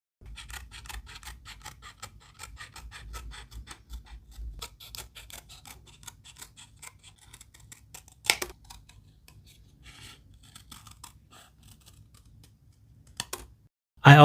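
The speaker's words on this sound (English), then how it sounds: "I use 300 GSM paper to cut out the shape of its face" Scissors snip through thick 300 GSM paper in a long run of quick, close, crisp cuts, with a couple of sharper clicks and a louder knock at the very end.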